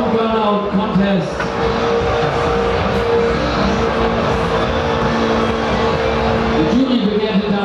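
A loud, continuous engine roar with screeching tires, held steady throughout, as a turbocharged Citroën 2CV does a burnout at a qualifying contest amid a noisy crowd.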